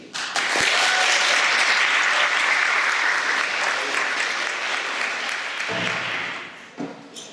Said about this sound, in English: would you give a warm round of applause to our first short story contributor?